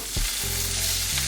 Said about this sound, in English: going to saute it